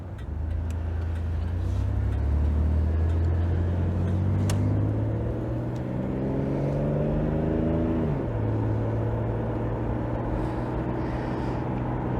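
An old car's engine idles steadily and close, its exhaust sounding off, the low drone wavering in pitch as it revs up, then dropping back to a steady idle.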